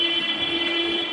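Pune Maha Metro train standing at a station platform, a steady mechanical hum with a high electrical whine, constant and fairly close throughout.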